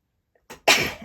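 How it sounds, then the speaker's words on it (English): A single close sneeze with a quick indrawn breath before it, then a sharp burst of air, alone in a quiet room. "I'm going to sneeze."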